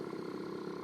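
A Honda Urban Express scooter engine buzzes at high revs near 10,000 rpm, a steady, droning, moderately loud whine that holds for under a second, with no voices.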